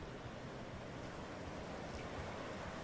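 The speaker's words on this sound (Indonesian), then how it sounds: "Sebuah pantai yang indah dengan pasirnya yang putih bersih." Surf washes continuously onto a long white-sand beach at Sundak Timur, Gunung Kidul, a steady broadband roar mixed with wind buffeting the microphone, no talk.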